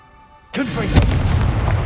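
The Confringo spell in Hogwarts Legacy goes off as an abrupt, loud explosive burst after a moment of near silence. A sustained crackling roar with a second swell of impact follows.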